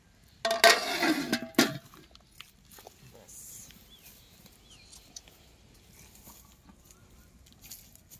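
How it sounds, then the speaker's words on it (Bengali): A metal lid goes onto a pot of rice on the stove with a loud, close clatter and clink lasting about a second, followed by quiet kitchen shuffling and faint voices. "ঢাকনাটা দিয়ে দাও, সলিড হয়ে না পড়ে"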